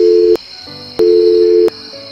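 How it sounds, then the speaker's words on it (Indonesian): A telephone ringback tone from a call to the police sounds in two loud, steady buzzing pulses separated by short gaps, with no voices. "Akhirnya, Mama Rani menelepon polisi."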